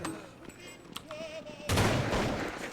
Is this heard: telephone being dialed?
no